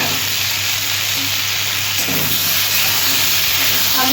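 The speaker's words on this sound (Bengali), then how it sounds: "আলু আর পটল একসাথে ভেজে নেব" Potatoes and pointed gourd sizzle together in hot oil in a pan, a steady close hiss of frying that runs unbroken with no talk over it.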